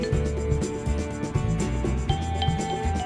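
A brush sweeps across the sand surface of a sand castle tower shaped with tubular forms, giving a steady, close, rasping rub with repeated strokes. Rhythmic, fairly loud scraping runs with no speech over it.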